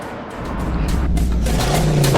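Steady road noise of a Suzuki Ertiga MPV on the move, with a low engine hum and tyre rumble that builds slightly and holds close and even throughout.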